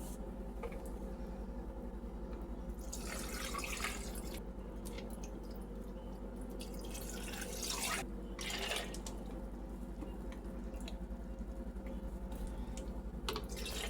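Cranberry juice pours in soft bursts over a steady low hum, with no voices.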